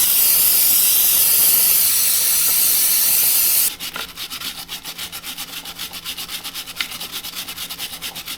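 Motorcycle wheels are scrubbed clean of dirt, first with a dense steady hiss like spraying, then with a quick rhythmic back-and-forth rubbing, close and fairly loud with no talk.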